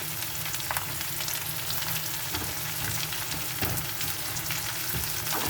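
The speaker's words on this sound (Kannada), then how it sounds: "ಸೊ ಈಗೆಲ್ಲ ವೆಜಿಟೇಬಲ್ಸು ಹಾಕಿದ್ದೇನೆ. ಇದನ್ನು ಒಂದು 5 ನಿಮಿಷ ಲೋ ಫ್ಲೇಮ್ ಅಥವಾ ಮೀಡಿಯಮ್ ಫ್ಲೇಮಲ್ಲಿ ಇಟ್ಕೊಂಡು ಫ್ರೈ ಮಾಡ್ಕೊಳ್ಳಿ." Vegetables frying in a pan with carrot, beans, cabbage, onion and spring onion give a steady, close sizzle with occasional soft stirring clatter.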